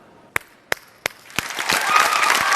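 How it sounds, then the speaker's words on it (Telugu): An audience on a Bigg Boss reality show set breaks into applause: three sharp separate claps first, then a dense burst of clapping that swells and carries on loudly. "క్లాప్స్ బా"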